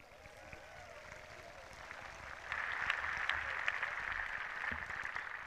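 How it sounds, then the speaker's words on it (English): Graduation crowd at an outdoor high school ceremony on a football field applauding, a steady wash of many hands that swells noticeably partway through and holds at a moderate, distant-sounding level. "Round of applause"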